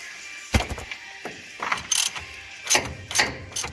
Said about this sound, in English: Let me switch it to the other ratchet, get a little more turnage.